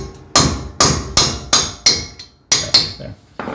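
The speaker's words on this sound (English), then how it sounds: "push this in with a punch and a hammer" Sharp metallic hammer blows, eight in quick succession with short pauses, as a small sledgehammer drives a punch to push a CV axle out during a suspension lift on a 2021 Ford Ranger FX4.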